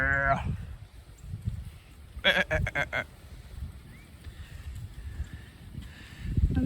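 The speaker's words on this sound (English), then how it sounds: "I think those are goats." A burst of bleating from goats nearby, several quick wavering cries in a row, with quieter animal sounds and a low rumble around them.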